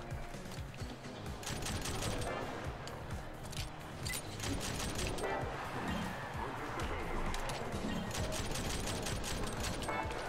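Rapid gunfire from dual guns in the video game Rollerdrome, a dense continuous barrage of shots running through the whole stretch over a busy game soundtrack.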